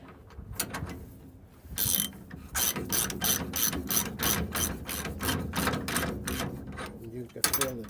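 A ratchet wrench spins a trailing arm bracket bolt on a 1968 C10 truck, giving rapid bursts of loud, close clicking that pause and resume in quick strokes.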